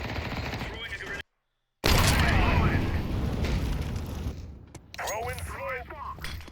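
A grenade explosion in a video game is heard as a loud, dense, rumbling blast among gunfire-like bursts and game noise, broken by a brief dropout, with voices talking over it.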